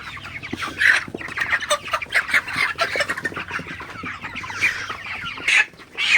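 Broiler chickens cluck and squawk on a poultry farm, many birds calling at once in a dense, busy chorus of overlapping short cries, fairly close and steady throughout.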